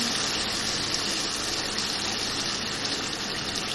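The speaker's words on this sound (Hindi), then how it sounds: "पानी डाल दूँ" Water pouring into a pot of mutton and potato curry, a steady broadband gushing splash that runs continuously and fairly close, with no talk over it.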